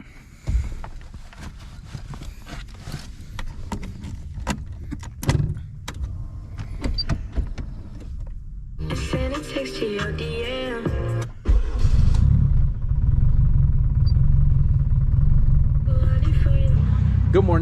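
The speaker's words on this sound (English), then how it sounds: "give you guys that E85 cold start" Car cold start on E85 fuel at a Norcal EF versus DA meet: a loud engine catches and settles into a steady heavy rumbling idle, preceded by clicks and whirring and heard close up.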